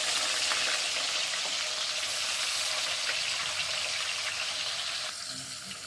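Fish sizzle and spit steadily in a hot frying pan, a dense, continuous crackle close by that eases slightly toward the end, with no talking.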